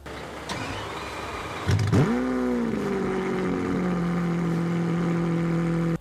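A Lamborghini Veneno engine fires up with a sharp rev, then drops into a loud, steady, droning idle that holds to the end.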